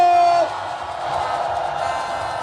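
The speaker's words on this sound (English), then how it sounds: "Make some noise, say whoa." A crowd at an opposition Unity Party campaign rally in Monrovia, Liberia roars and shouts in a steady, dense wash of cheering that follows a brief loud call, continuing at full volume for a couple of seconds.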